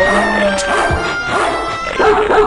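A dog yips and howls amid a dense, noisy mix of other sounds, with a few short whimpering cries rising over the clutter.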